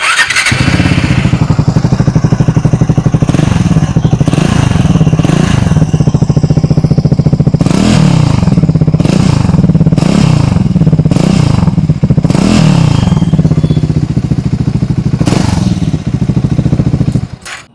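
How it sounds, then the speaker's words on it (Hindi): A 2026 Triumph Scrambler 400 X in white idles with a steady, loud, close single-cylinder thrum, then is blipped into a series of sharp throttle revs that rise and fall before settling back to idle, with no voices over it. "आइए अब सुन लेते हैं इस बाइक की एग्जॉस्ट नोट"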